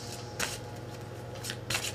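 A deck of tarot cards is shuffled quietly and close by, with a few brief crisp riffling bursts over a low steady hum.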